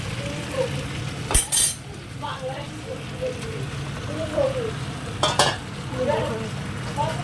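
Potatoes frying in a karahi on a stove, steady sizzling under a spoon's stirring scrapes, with two sharp metallic clanks against the pan; a person talks over the cooking.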